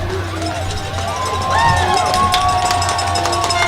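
Football fans at a stadium game (Iowa vs SLC) roar and cheer after a long run to the end zone, a broad sustained crowd noise with an announcer's voice over it.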